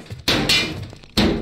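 Rusty hammer in the Quarantine Z video game striking three times in an uneven rhythm, each hit a sharp loud impact close up with a short ringing tail.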